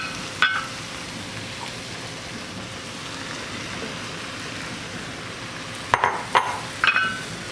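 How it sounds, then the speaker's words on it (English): Potatoes are tipped into a pot of fried golden onions and stirred, with a soft steady sizzle and a few sharp scraping, clattering bursts near the end. "So now I'm going to add in my potatoes."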